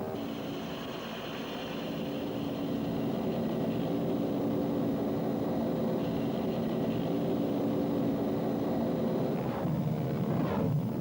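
A Huey military helicopter flies close and loud, with a steady dense rotor and engine roar that holds throughout, no voices.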